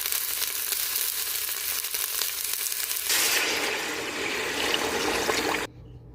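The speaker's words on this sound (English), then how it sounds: "add 2 tablespoons of olive oil. Then add the ginger and the onions. Saute it until it's a little bit brown" Ginger and onions sautéing in olive oil in a pot, a steady bright sizzle and crackle that grows louder midway, then drops off abruptly near the end.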